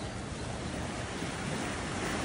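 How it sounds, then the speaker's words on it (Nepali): Waves wash onto a small beach on the California coast, a steady, loud broadband roar of surf with wind mixed in and no talking. "छाल त त्यहीँसम्म आउँदो रहेछ"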